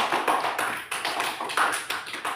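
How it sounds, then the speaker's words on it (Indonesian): Children clapping for a group in a classroom, a dense, uneven patter of hand claps that runs steadily and fairly close, with no voices over it. "Oke, tepuk tangan untuk kelompok 3."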